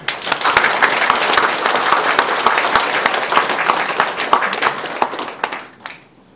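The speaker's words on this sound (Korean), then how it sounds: "박수 한번 쳐주시기 바랍니다." A crowd applauds loudly and steadily for several seconds during a sermon, the clapping dense and continuous before tapering off at the end.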